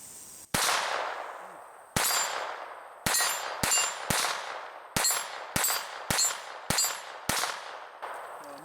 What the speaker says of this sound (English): So nice and easy shooting with that 22 long rifle, very small caliber compared to the other stuff.